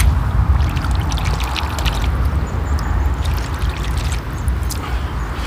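Water pours steadily over a freshly dug metal-detecting find from a boggy field in England, a continuous close splashing trickle with faint drips throughout.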